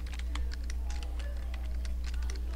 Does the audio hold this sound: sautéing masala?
no